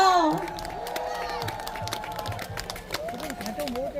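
A crowd at a spring azalea festival claps and cheers, with whoops and a shouting voice near the start, the applause continuing steadily under a sustained tonal voice.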